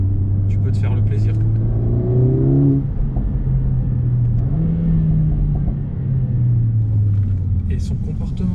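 A 2020 Mercedes A45S AMG engine pulls under acceleration with a steady loud rumble, its pitch climbing and shifting, while people talk over the cabin noise.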